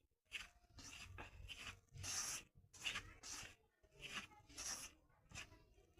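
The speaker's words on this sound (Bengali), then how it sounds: "এবার এটা আমরা মাখিয়ে নেব গুঁড়ো দুধটা যাতে ময়দার সাথে ভালোভাবে মিশে যায় তাই মাখিয়ে নিচ্ছি" Flour dough mixed with milk powder being kneaded by hand, soft close rubbing and pressing sounds in an even rhythm of about a dozen short pushes, fairly quiet.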